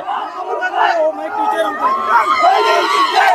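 Excited shouting and cheering from a close crowd celebrating a women's district-level kabaddi match win, loud overlapping voices yelling in bursts.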